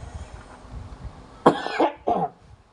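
A person coughs three times in quick, separate bursts, close and fairly loud, over a low background rumble and with no talking.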